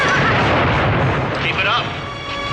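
Percussion bombs going off in a TV battle scene: a dense, loud rumble of blasts and crackling bursts that runs throughout and eases slightly near the end, with no talking.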